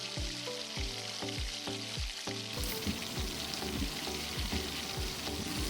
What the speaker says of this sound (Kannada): ಈಗ ಡೀಪ್ ಫ್ರೈ ಮಾಡಿ ತಿನ್ನಲು ರೆಡಿಯಾಗಿದೆ.